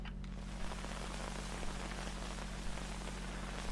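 Steady, dense rainfall fills the scene in the video game $uicide of Rachel Foster, a constant close hiss of drops on surfaces with no pauses and no voices.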